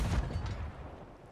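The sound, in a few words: blunder bomb fired from a ship cannon in Sea of Thieves video game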